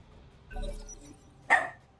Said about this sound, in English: She's just a little barky dog.